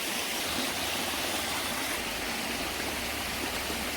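A small stream flowing along the boundary of a farm plot, a steady, close rushing and splashing of water that fills the whole stretch evenly, with no speech.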